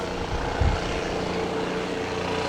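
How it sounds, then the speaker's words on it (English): A jet aircraft passes overhead, filling the clip with a steady, broad engine roar that holds at a constant level throughout, with no speech over it. "It feels like they sent a jet over my head while I'm speaking facts"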